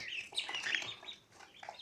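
Small chick chirping in high, thin peeps at close range, a few bright calls bunched in quick succession and then trailing off briefly before another short cheep near the end.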